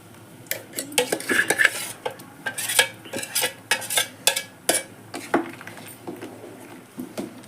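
A metal spoon clinks and scrapes against a pot as mixed masala is stirred into bubbling dal for bottle gourd sambar, giving irregular sharp knocks and clatter over a soft simmering background.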